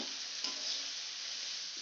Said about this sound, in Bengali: গাজর আর বিনসটাকে একসাথে ভেজে নিচ্ছি